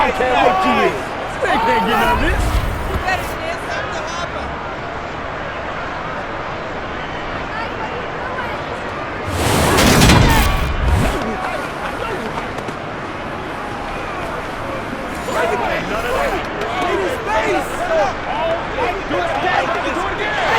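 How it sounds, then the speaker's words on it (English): A crowd roars and shouts in Madden NFL 23 during a Saints versus Eagles game, with a sustained wash of stadium noise that swells into a loud burst midway, under a commentator's voice. "Plenty of shouts from this crowd as they watch the replay."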